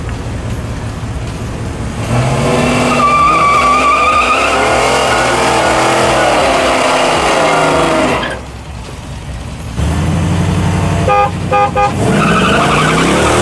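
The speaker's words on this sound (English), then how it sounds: "He's doing a quick burnout record." A truck does a burnout: a loud, sustained engine roar with screeching tire squeal, a brief dip in the noise partway through, then the engine revs back up with sharp bursts.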